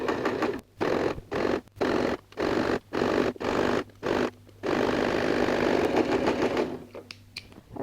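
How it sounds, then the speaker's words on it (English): A sewing machine runs a zigzag stitch on jersey stretch fabric in short bursts of close whirring separated by brief pauses, then one longer continuous run before stopping. "we're going to sew a zigzag stitch"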